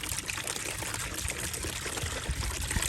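Water pours steadily from a gallon jug into a bucket, a continuous close splashing stream that carries on for the whole stretch without any talk.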